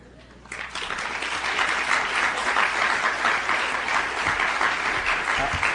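An audience bursts into applause at a 1992 graduation address, the clapping rising sharply after half a second and holding as a dense, steady roar through to the end.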